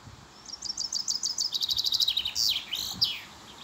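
A European robin sings during a storm, a run of rapid high chirps and trills, then a few sliding notes, over a constant rushing background of wind and rain.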